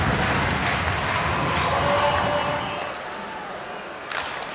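Home crowd roaring and cheering at a Sheffield Steelers versus Belfast Giants ice hockey game, a loud sustained wash of arena noise with whistles, easing slightly near the end.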